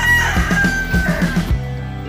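A backyard rooster crows loudly and close, one drawn-out call with a rising then falling tail, followed by a short cluck, with no talk.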